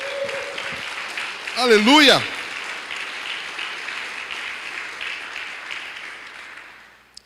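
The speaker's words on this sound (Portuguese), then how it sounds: "Pode aplaudir." A church congregation breaks into sustained applause, a broad wash of clapping that carries on and slowly fades, while one voice sings out a brief call near the start.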